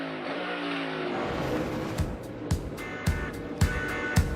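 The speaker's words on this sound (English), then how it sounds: "So there is 5th gear right there coming up the hill." A race car engine shifts into fifth gear while climbing a hill during practice for the Toyota/Save Mart 350. A loud, close engine roar is broken by a regular series of sharp gearshift bursts, with no talk.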